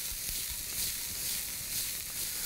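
Tuna seared in a hot pan gives a steady, bright sizzle with faint crackles and spits throughout, close and alone with no voices.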